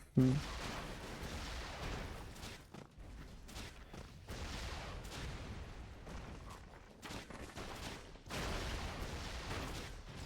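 Explosions and gunfire in the video game Broforce, with repeated booms and bursts of rumbling blasts rolling in and out over several seconds.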